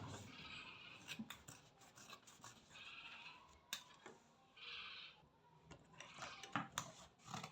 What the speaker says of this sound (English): So I'm going to be cutting out now. First, we cut the radius.